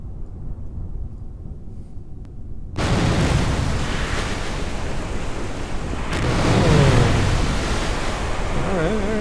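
A spacecraft in Kerbal Space Program splashes down into water, a sudden loud broadband rush of surf-like noise after a quieter rumble, then sustained churning water and wind noise, with no speech.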